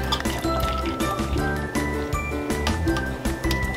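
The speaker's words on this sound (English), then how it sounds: "I am just going to add in my milk." Milk poured into a to-go mug: a close, steady liquid stream with a rising fill tone and faint clinks, lasting a few seconds.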